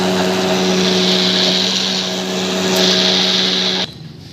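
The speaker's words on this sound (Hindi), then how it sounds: "ये देखो अब इसको फिर दोबारा हम ग्राइंडर करते हैं।" A blender grinds a mint margarita, its loud, steady motor whine and churning roar running continuously close by before cutting off abruptly near the end.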